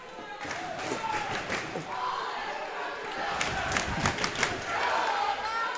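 A loud, sustained crowd cheers and shouts in a gym during a boys' volleyball playoff game at Hollis-Brookline, with scattered thuds and claps in the roar.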